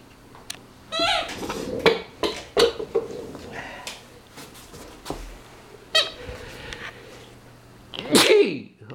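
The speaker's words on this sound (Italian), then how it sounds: "Starnuto." Several sharp sneezes burst out at close range among short bits of talk and light clatter, with a final loud sneeze at the end.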